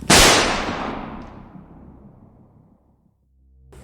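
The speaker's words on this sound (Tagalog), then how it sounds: "may isang putok ng baril ang narinig" A single sharp gunshot cracks loudly, then rings out in a long fading echo that dies away over a few seconds.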